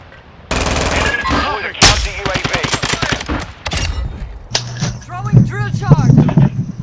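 Assault rifle gunfire in Call of Duty, with rapid automatic bursts and clustered shots over a few seconds, loud and close, mixed with other game effects.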